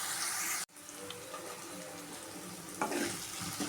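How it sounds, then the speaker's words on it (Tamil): Tomato frying in a pan for Bombay chutney, a steady close sizzle and hiss that cuts out briefly near the start, then resumes with a stir-like surge. "தக்காளி நல்லா வதங்கணும்."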